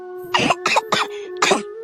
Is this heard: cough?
yes